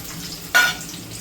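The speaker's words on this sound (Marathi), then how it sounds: "2-3 तमालपत्र आणि बारीक चिरलेला कांदा फोडणीसाठी टाकते" Bay leaves and finely chopped onion drop into hot oil, a sudden close sizzle bursting up and then settling into a quieter steady fry.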